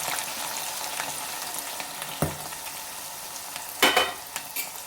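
Green chillies and onions frying in a pan, giving a steady sizzle with occasional louder crackles and stirring clatters, and no talking.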